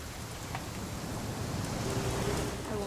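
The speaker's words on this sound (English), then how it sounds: "It's gonna rain the whole weekend, isn't it?" Steady rain falls in the video game What Remains of Edith Finch, a dense even hiss of drops on surfaces that stays constant throughout, with no speech.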